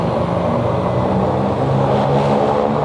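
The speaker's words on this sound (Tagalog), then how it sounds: "Mula rito hanggang doon harurot yan" A vehicle speeds along a wide open stretch of road, its engine revving hard in a loud, continuous roar that stays close throughout.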